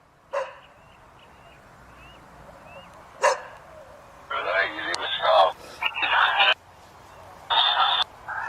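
A dog barks in short loud bursts, a few single yaps and then longer runs of barking, heard close over quiet background noise with no talking.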